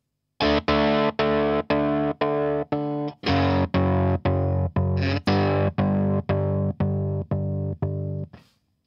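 Electric guitar played through a modulation effects pedal on a pedalboard, with the depth control shaping the tone: a loud, steady run of about sixteen evenly spaced strummed chords with a thick, wavering, slightly distorted sound and no talking.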